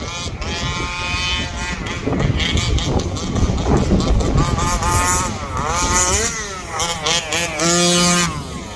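Rovan Baja 5T RC car with a 36cc engine run at full throttle, its loud buzzing two-stroke whine rising and falling over and over, with people talking over it.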